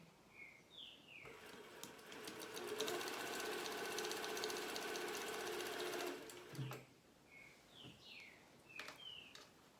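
Sewing machine running in one steady burst of about five seconds while stitching pillowcase fabric, close and clear, with soft bird chirps outside before and after.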